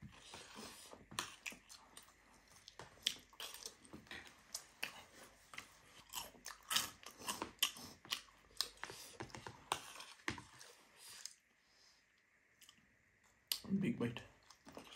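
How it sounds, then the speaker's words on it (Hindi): Spicy chatpate, a Nepali street snack, being bitten and chewed at night, with repeated crunchy bites and mouth clicks close to the mic, mixed with talk and a louder crunch near the end. "big bite"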